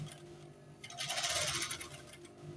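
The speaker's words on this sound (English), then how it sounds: "So you are sewing by half." A sewing machine stitches a half-elastic-waist senator trouser, its steady whirring run loud and close, swelling in the middle of the stretch and easing toward the end, with no talking.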